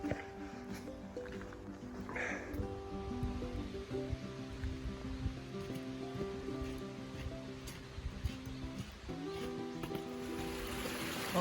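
A stream flows on Namsan mountain in Gyeongju, a constant rushing burble of moderate level, overlaid with sustained tonal sounds and occasional faint voices in the background.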